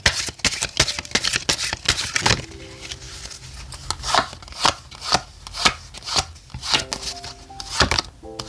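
Oracle cards being shuffled for a tarot reading: close, repeated papery riffles and slaps in an uneven rhythm, with no voices.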